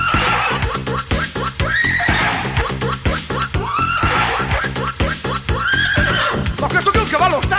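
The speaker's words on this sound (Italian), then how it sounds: "Tocca adesso il cavallo. The horse." A horse neighs and whinnies loudly and repeatedly, shrill rising calls layered over a busy comic mix in which voices are heard throughout.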